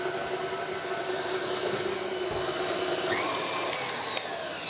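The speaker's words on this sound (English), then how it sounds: "we're just going to mix this in, starting off slow and then go up to medium just until they're all combined" Electric hand mixer beating mashed bananas into cake batter, a continuous steady whirring motor hum with a slight pitch rise as the speed goes up, close and loud with no talk.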